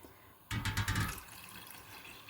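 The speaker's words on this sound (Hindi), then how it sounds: "अब इसमें पानी डाल देते हैं" Water is poured into a stovetop pot holding about 400 grams of washed mash daal: a sudden splashing gush starts abruptly, then settles into a softer, steady trickle, close and fairly quiet.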